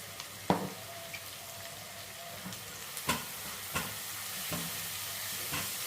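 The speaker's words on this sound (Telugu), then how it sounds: "ఆనియన్స్ ఫ్రై అవుతున్నప్పుడు కొంచెం పసుపు వేసుకోండి" Onions frying in a pan with cumin, curry leaves and turmeric, a steady soft sizzle broken by a few sharp scrapes of a spoon stirring, fairly quiet and close, no talking.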